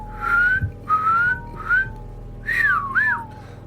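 A series of whistles, five short tuneful notes with pauses between them, some sliding up and down in pitch, fairly close and clear.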